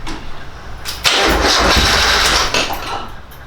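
An Exocet kit car with wiring gremlins cranks and catches, its engine bursting into a loud, rough run for a couple of seconds before settling back to a lower idle-like rumble, no voices present.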